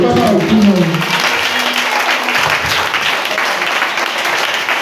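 Church congregation applauding and cheering in acclamation during a sermon, a dense, loud wash of clapping and voices that holds steady throughout, with a shouted voice rising briefly at the start.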